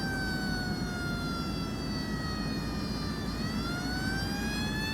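A fire truck siren wails in the city-building video game Cities Skylines II, a steady rising and falling tone held over a constant rumbling background, moderately loud, with no talking.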